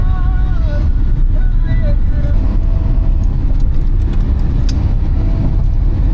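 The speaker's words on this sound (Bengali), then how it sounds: "ফার্স্ট গিয়ারে এক্সেলেটার দিলেই এইটা হয়।" A tuned car engine on a road trip from Kolkata to Odisha drones loudly as it accelerates in first gear, a steady close rumble with a rising tone throughout.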